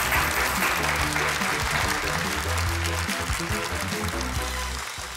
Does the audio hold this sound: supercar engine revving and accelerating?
no